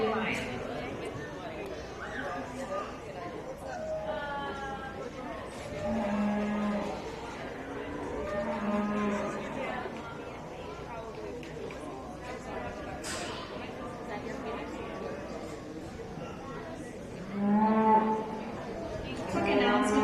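Cattle at a county fair beef show low intermittently through a busy arena, several moos rising over steady crowd chatter and an announcer's voice, with a louder close bellow near the end.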